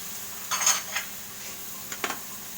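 Chopped tomato goes into a pan of cooked onion for chicken liver, heart and gizzard kinamatisang stew, giving soft sizzling and a couple of brief bursts of utensil stirring against the pan, fairly quiet.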